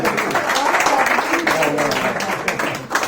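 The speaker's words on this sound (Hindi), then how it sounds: "तालियां बजाइए।" Applause from the audience at an Urdu mushaira poetry gathering in Milton, Canada: dense clapping from a crowd, close and fairly loud, sustained throughout with a voice faintly mixed in.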